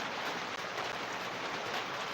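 Rain falling steadily, a dense, even hiss of drops sustained at moderate level without pause, with no voices over it.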